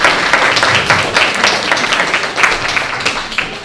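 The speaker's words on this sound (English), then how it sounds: "Please give our helpers a big round of applause" Audience clapping for concert helpers at a school music concert, a dense, sustained round of applause from a crowd, loud and steady throughout.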